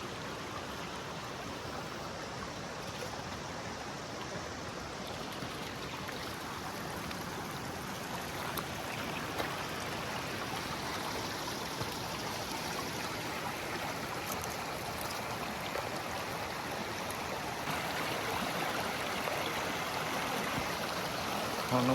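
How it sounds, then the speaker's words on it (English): A creek flows into a river at a campsite with a continuous, broad rushing of water, loud and close and unbroken, swelling slightly toward the end. "Here's the creek flowing into the river."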